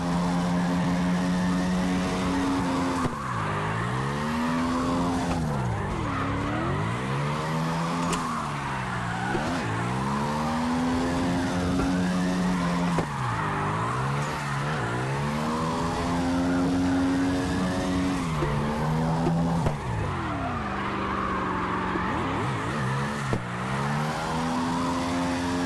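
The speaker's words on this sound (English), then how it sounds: "there is a slight amount of rev limiting going on with this vehicle" A racing video game car engine wails at high revs and repeatedly bounces off the rev limiter, a loud continuous whine with rhythmic dips and rises between gear changes, with no talk.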